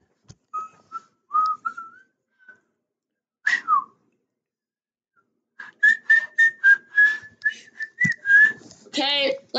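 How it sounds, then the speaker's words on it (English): A person whistles short melodic phrases up close, with a pause in the middle and then a longer run of quick repeated notes, ending in a wavering trill; no talking. "Okay, let's stop whistling now."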